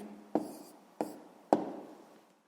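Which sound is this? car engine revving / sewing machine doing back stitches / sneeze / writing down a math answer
writing down a math answer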